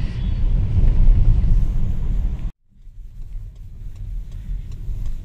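A Ford Freestyle drives a foggy mountain road toward Nathula Pass at 14,000 ft, its engine and road rumble loud and steady, then cutting out abruptly before resuming more quietly.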